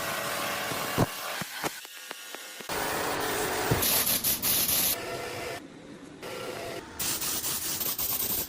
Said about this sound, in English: Using a professional spray gun, I apply several thick, even coats of high-quality gray epoxy primer to seal the metal.